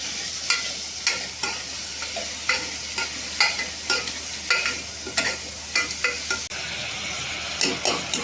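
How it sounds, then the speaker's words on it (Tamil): Onions frying with spices in a pan for a lamb lung curry, a steady sizzle broken by regular scraping and clinking strokes of a metal spoon stirring, close and clear, with no talking. "வெங்காயம் நல்லா வதங்கணும்"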